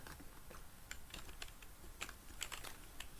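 Rapid keystrokes on a computer keyboard, entering an address into code, clicking in an irregular close-up patter with no voice.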